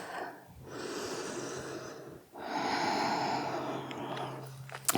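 Deep, slow breathing during a vinyasa yoga flow, two long breaths close to the mic, each a broad airy inhale or exhale with a short pause between, with a faint snort-like catch near the end.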